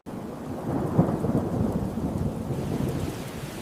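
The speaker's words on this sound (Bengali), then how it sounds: "বহু বছর পর মরুভূমিতে বৃষ্টির দেখা মিলল" Monsoon downpour with rolling thunder: a steady, dense hiss of rain and a deep rumble that swells near the start, then a continuous wash of rainfall with no voices.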